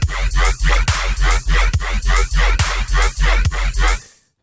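A dubstep riddim phase bass made with the Serum synth pulses in heavy, rhythmic repeated stabs with deep sub weight and gritty, phasing upper texture, loud and alone before a short fade at the end.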